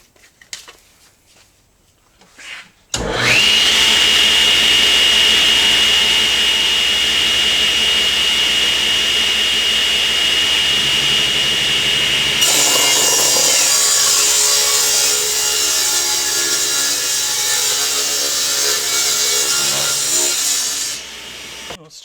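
A table saw fitted with a 1/8 inch blade rips a strip of wood on a tapering, straight-line rip jig: the motor starts up, then a loud, steady cutting whine carries for about eighteen seconds, with a brighter tone partway through, before it winds down.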